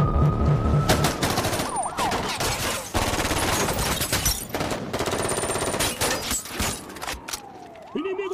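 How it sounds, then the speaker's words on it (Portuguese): Dense, sustained automatic gunfire from a dubbed Portuguese action film, London Has Fallen: rapid overlapping bursts, loud and continuous across the whole stretch, with brief gaps before the barrage resumes. "Não parem de atirar!"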